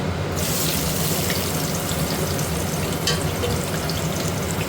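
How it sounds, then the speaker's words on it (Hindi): Chopped onion goes into hot oil with sizzling cumin, setting off a loud, continuous close frying hiss and crackle that holds steady throughout. "ये हो गया है जीरा, इसमें डाल देती हूँ प्याज।"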